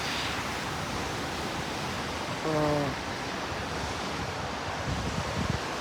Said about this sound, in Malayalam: ഈ വണ്ടികളെല്ലാം പോകുന്നുണ്ട്